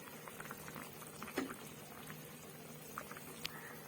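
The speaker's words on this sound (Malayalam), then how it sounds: "നന്നായി തിളച്ചുകൊണ്ടിരിക്കുന്നതിന്" A pot of sardine curry bubbles and simmers steadily, with soft popping and gurgling, close by and fairly quiet, with no voices.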